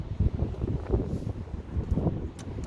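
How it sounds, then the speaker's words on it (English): Strong wind gusts across a pike fishing spot, buffeting the microphone with a loud, uneven low rumble and no one speaking. "There's no point throwing my feeder rod out, it's too windy."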